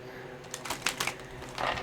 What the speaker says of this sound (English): The cards are acting real weird with Leo shuffling.